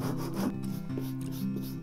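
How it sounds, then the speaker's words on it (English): Soft, continuous rasping rub of 80 grit sandpaper against a leather strop, repeated in a steady back-and-forth rhythm, close and quiet. "smooth out the entire surface of the leather using 80 grit sandpaper"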